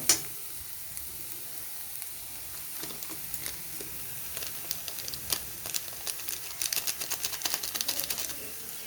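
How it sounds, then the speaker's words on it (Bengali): Carrots frying lightly in a pan with salt and Maggi masala, a soft steady sizzle with scattered clicks of stirring that grow busier toward the end, no voices. "এবার গাজর আর নুনটাকে ভালো মতন মিশিয়ে নেব খুব বেশি ভাজার দরকার নেই হালকাভাবে ভাজলেই হবে"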